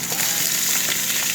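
Garlic, onion and marinated pork fry in a pan for a pork chow mein, giving a steady, close, loud sizzle that stays even throughout with no talking.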